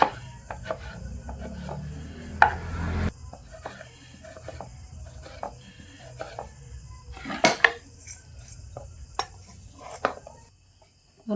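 A knife cuts two tomatoes for veg fried rice, giving a series of irregular close taps and knocks on a board, with a heavier clatter of utensils partway through.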